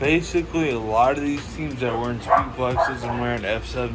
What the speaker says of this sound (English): I apologize for my dogs in the background